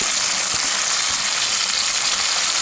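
Continuous, loud sizzling of fresh mint, coriander and curry leaves frying in hot oil for a mushroom gravy, a steady crackling hiss with no voices.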